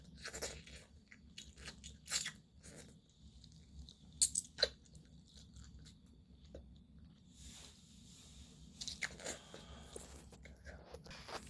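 Ramen and tom yum instant noodles are chewed close to the mic, with wet, crunchy bites and squishy mouth sounds that come in uneven bursts, some louder, over a low room rumble.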